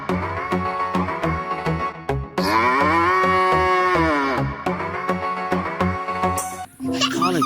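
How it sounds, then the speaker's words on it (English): A cow moos once in a long, drawn-out call, loud and clear over upbeat background music in a children's animal-cleaning game, with cheerful sound effects before and after. "Oh, this one is a cow."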